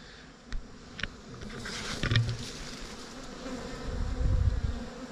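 Dwarf honey bees buzz in a steady, close swarm around their nest as it is cut, with a few sharp taps and rustles rising and falling over the hum and no talking.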